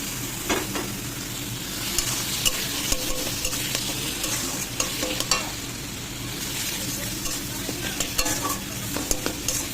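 Eggplant frying in a hot pan with turmeric, cumin and coriander powder, a steady close sizzle broken by occasional scraping stirs and light utensil taps, with no voices.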